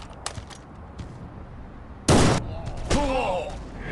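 Gunfire in the mobile shooter Guns of Boom, sporadic single shots followed by a loud burst and further firing, with game announcer voice lines and a tonal effect layered over the shots.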